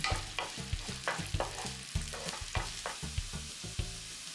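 Chopped garlic and onion sauté in a pan, a steady sizzle broken by rhythmic scraping strokes of stirring, fairly close.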